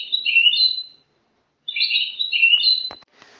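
Moroccan goldfinch sings two close, clear phrases of quick warbling, twittering notes separated by about half a second of silence, ending with a soft click.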